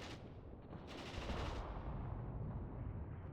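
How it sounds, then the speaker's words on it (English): Artillery fire in the tank battle game Mius Front makes a distant, dull roaring blast that swells and then rumbles off into low noise, fairly faint and alone. "They took quite heavy artillery fire."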